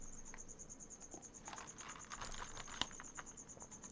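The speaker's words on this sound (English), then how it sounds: "If you guys hear those crickets, I am sorry." Crickets chirp steadily in a continuous high trill, with faint rustling and a brief sharp click partway through.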